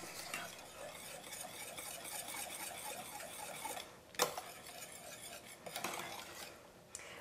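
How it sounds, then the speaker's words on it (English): A spoon stirs melted butterscotch pie filling in a pan with a steady scraping swish and faint sizzle, then a couple of sharper clinks as the utensil taps the pan's metal side. "Okay, that's all melted, but now we just want to get that mixed really good."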